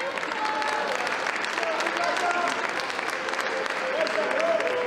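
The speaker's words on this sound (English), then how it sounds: "nice round of applause as they go off" Steady applause from a bodybuilding contest audience as female figure competitors walk off the stage, dense continuous clapping throughout with faint crowd murmur and brief whistles.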